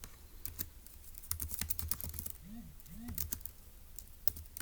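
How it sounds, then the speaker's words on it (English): Rapid clicking of a computer keyboard as notes are typed, a run of quick, close keystrokes in irregular bursts with a few brief pauses between them. "let's go ahead and type that up in our notes for section E"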